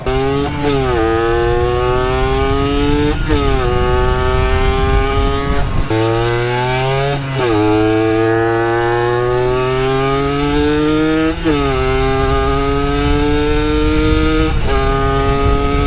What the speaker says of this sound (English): We had to pull the YSR out to at least go test ride it.